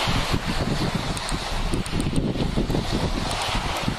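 Strong wind buffets the microphone in continuous gusty rumbles while sea fishing for sea bream, with no voices.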